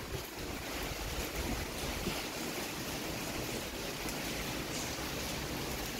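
Steady rain from the first monsoon shower hisses evenly and continuously at low level, a dense wash with no talking.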